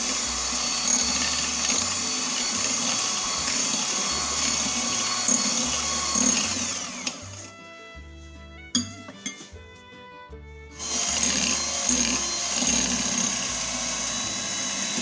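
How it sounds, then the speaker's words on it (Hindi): An electric hand beater whirs steadily through sugar and eggs for cake batter, a loud, even motor drone with brief gaps and clinks where it stops. "तकरीबन 4 से 5 मिनट आपने इसको बीट करना है, ताकि चीनी और अंडे का जान हो।"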